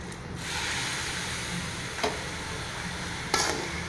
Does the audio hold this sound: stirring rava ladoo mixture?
yes